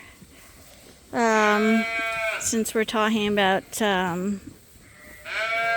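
Ram lambs in a sheep pen bleat loudly and close by, several long wavering calls in quick succession with short pauses between, while a person speaks briefly.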